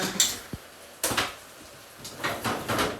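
A home kitchen refrigerator door being opened: a few sharp clicks and knocks with a soft thud, close by, spread over a few seconds, with no voices.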